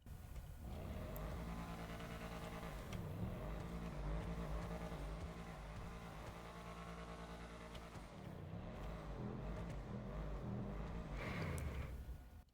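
Benefactor Shafter LWB car engine in GTA Online, revving and accelerating through rising gear pulls with brief dips between shifts, a steady droning engine note with no talk over it.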